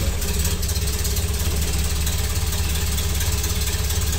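Ford Model A engine with a Burtz block idling after a warm start, a steady close mechanical chug with even rhythmic pulsing throughout, no talk.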